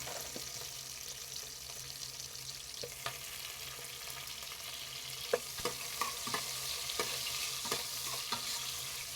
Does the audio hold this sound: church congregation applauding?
no